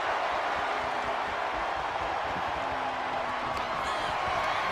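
Wrestling crowd in Dayton, Ohio, a dense, steady roar of cheering and shouting at an even, loud level throughout, with a few whoops rising out of the mass.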